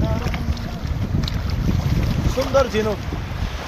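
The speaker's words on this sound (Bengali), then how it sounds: "এই যে ঢেউ আসতেছে" Sea waves wash in at high tide on a Bangladesh beach, a steady broad surge buried under heavy wind buffeting, with a person talking briefly over it.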